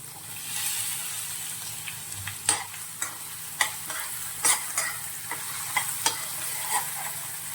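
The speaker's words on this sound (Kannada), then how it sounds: "ಒಂದು ಬಟ್ಲು ಈರುಳ್ಳಿ ಹಾಕ್ತಿದ್ದೀನಿ." Onion and a ground paste of chilli, cumin and garlic sizzling steadily in a hot pan for junka, broken by close scraping and clanking stirs.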